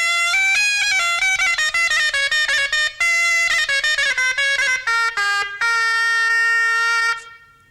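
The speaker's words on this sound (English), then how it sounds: "That was the sound of the Shawm, the forerunner of the modern oboe." A shawm, the loud double-reed forerunner of the oboe, plays a bright, nasal, buzzing melody of quick separate notes, then holds a long final tone before stopping abruptly, heard alone and close.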